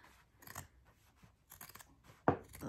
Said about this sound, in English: once I cut this, I'll show you. There goes one leg.